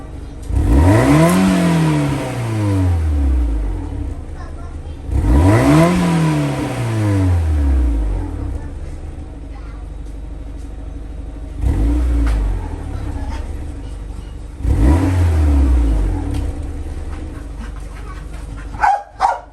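A Honda Civic DC2 fitted with a new muffler, stock header and mid pipe, is revved to about 5000 rpm three times. Each rev swells and falls away, close and loud, with idle between and no talk.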